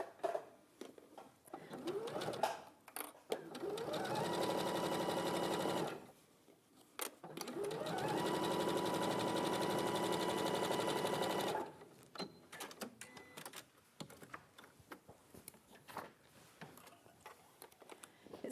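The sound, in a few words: sewing machine basting fabric in place at the sides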